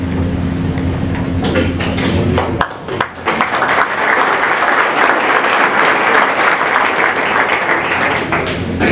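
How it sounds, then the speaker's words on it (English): Audience at a Politics and Eggs breakfast event applauds loudly as Jeb Bush is brought up, dense sustained clapping from a large crowd; a low tonal hum fades out early and a brief dip follows before the clapping continues strongly. "Thank my wife and my sister for starting that applause."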